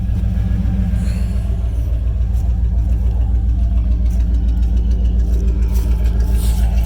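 A loud, rough third-generation Camaro engine with no muffler idles steadily up close, with a slight miss, its deep rumbling pulse unmuffled and constant, with no voices.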